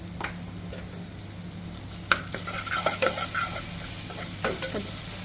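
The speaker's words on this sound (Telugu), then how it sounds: "ఇప్పుడు మనం దీంట్లో కొంచెం ఫ్రెష్గా దంచుకున్న అల్లం వెల్లుల్లి పేస్ట్ వేసుకోవాలి" Freshly pounded ginger garlic paste fries in oil for mint coriander pulao, a constant sizzle broken by sharp scrapes and clinks of a spoon stirring against the pan, close and without talk.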